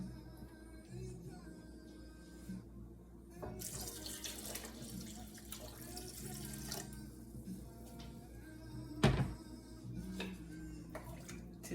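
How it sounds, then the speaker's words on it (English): Tap water runs steadily into a soup pot while vegetable soup is being cooked, a continuous close hiss and splash with a brief louder surge partway through and no speech. "And then I'm going to add about 5 cups of water."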